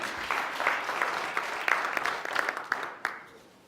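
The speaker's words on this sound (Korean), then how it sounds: "큰 박수 부탁드리겠습니다." An audience at an evening lecture on urban planning claps steadily, with a few sharper individual claps standing out before the applause thins and fades toward the end.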